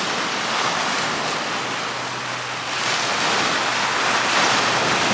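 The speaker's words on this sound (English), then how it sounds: "It's a pebble beach." Ocean waves wash onto a pebble beach in Jamaica, a steady broadband surf hiss with wind noise, swelling slightly toward the end, no voices.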